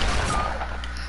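A sniper shot in Fortnite, one loud close blast with a short rumbling tail that fades over about a second, heard alone.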